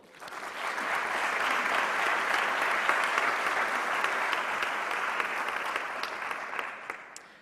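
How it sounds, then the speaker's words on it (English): Sustained applause from a large audience at a graduation ceremony, rising quickly and holding a dense, even roar of clapping for about seven seconds before tapering off. "I think they deserve a round of applause."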